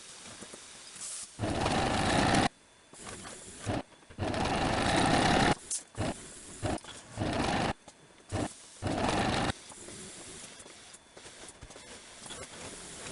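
Sewing machine stitching buttonholes on a dress, several short loud bursts of rapid whirring stitches separated by brief quiet pauses.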